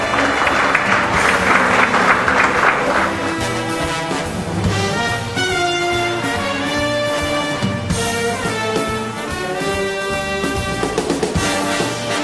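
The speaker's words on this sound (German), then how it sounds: "Applaus für Andreas Daniel." Applause greets poker player and actor Andreas Daniel at a poker event, starting as a loud burst of clapping that fades under strong music for the rest of the stretch.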